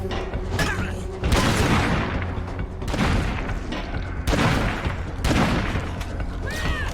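BFG weapons firing in a video game: dense, continuous booming blasts and mechanical clanks overlap in heavy bursts, loud and chaotic, with a few rising whistle-like tones over the barrage.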